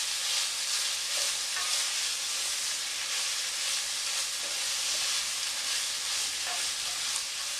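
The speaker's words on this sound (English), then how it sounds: "right now I want to sear the vegetables and get all the flavors out of the peppercorns." Vegetables and peppercorns sear over medium-high heat, producing an even, steady hiss of frying with light stirring taps scattered through.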